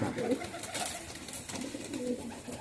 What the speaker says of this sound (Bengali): দেখুন বন্ধুরা এই দুজোড়া পিলাঙ্কা পায়রা দেখালাম আপনাদের